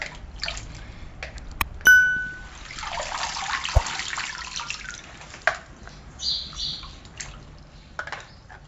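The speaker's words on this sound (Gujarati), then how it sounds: "તો પહેલાં આને એકવાર પાણીમાં ધોઈ અને બધી આપણે કાઢી લેવું, પછી બીજા પાણી ધોવાની" Fresh coriander leaves being washed by hand in a jar of water in a home kitchen, with intermittent sloshing, trickling and dripping plus a sharp metallic ding and a few clinks.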